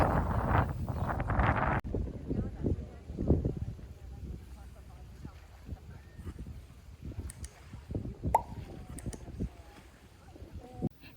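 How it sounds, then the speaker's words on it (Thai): Cool sea breeze on the seaside in Bergen, Norway, buffeting the microphone in a steady rushing gust, with someone speaking over it. "มารับลมเย็นๆนะคะ"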